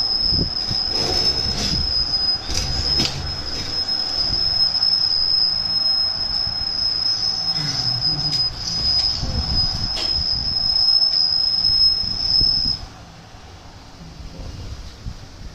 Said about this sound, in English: Train sound